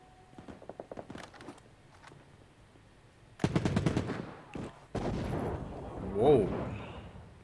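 Rapid bursts of F1 gunfire in the Battle Prime shooter game: scattered shots at first, then a loud sustained volley with heavy booms, while a voice talks nearby.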